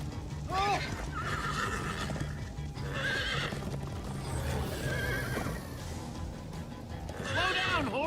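Horses in the Minecraft Story Mode video game whinny repeatedly with rising-falling neighs over steady clip-clop hooves, with game characters talking in between.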